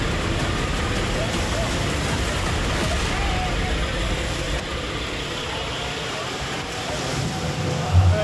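High sea waves crash and roar against a coast guard boat at sea, a continuous loud wash of surf and wind buffeting the microphone throughout, with no clear speech on top.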